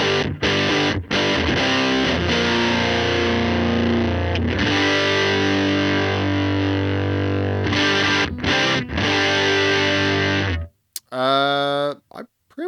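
Electric guitar through a cranked amp model on the bright channel of a Tone Master Pro, thick distorted chords and riffs ringing loud and close with brief gaps, ending in a short burst of unclear speech-like noise.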